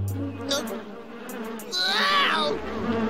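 Cartoon bees buzz in shifting, wavering drones that swell louder toward the end, layered over animated voices.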